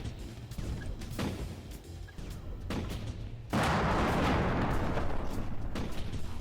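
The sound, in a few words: tank gun firing in VR game Armored Front: Tiger Command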